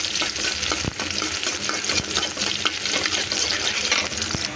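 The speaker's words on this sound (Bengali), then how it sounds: "এখন এখানে আমি পেঁয়াজ কুচিটা দিয়ে দেবো। পেঁয়াজ কুচি দিয়ে এখন ডালটা বাগার দিয়ে দেবো।" Chopped onion hits hot oil in a wok with a steady, loud sizzle and crackle, with occasional stirring clicks and scrapes throughout.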